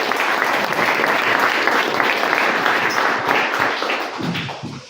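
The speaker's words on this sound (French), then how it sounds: "Allez, encore un applaudissement. Bravo." An audience at a party event applauds, a dense, continuous wash of clapping from many hands that stays loud and fades slightly at the end.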